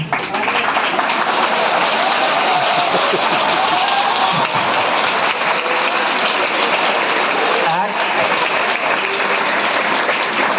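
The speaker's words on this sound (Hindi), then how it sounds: "एक व्यक्ति बच गया है, उसके लिए भी थोड़ा ताली बजा दीजिए" Dense, steady applause from a large audience at a talk in Prayagraj, sustained and loud throughout with a few faint voices mixed in.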